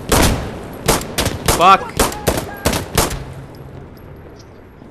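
Gunfire in Insurgency: Sandstorm, a loud close burst of about eight sharp shots at an uneven pace, followed by a fading tail, with a brief shouted curse in the middle.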